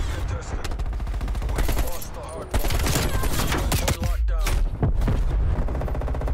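AK-47 gunfire in Call of Duty: Cold War on the Nuke map, loud sustained bursts of rapid automatic shots with brief pauses between, close and dense with a player's voice faintly underneath.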